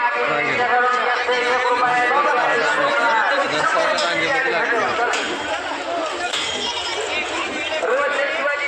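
Dense crowd of pilgrims at a Mahashivratri temple festival (yatra) in Pimpri, with a steady, loud babble of many overlapping voices close around, continuous and unbroken.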